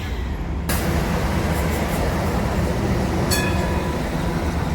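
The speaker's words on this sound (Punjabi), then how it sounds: "ਇੱਕ ਟ੍ਰੇਨ ਇਧਰੋਂ ਆ ਗਈ ਇੱਕ ਇਧਰੋਂ ਆ ਗਈ" A train rumbles past nearby, a steady loud roar of wheels on rails with occasional high metallic squeals, no voices.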